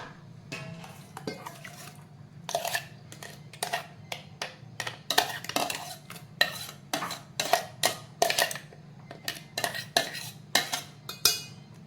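Fresh homemade butter, just churned in a mixer and separated from its water, is scooped with a metal spoon into a pot, giving a run of sharp scraping and clinking knocks against steel over a low steady hum.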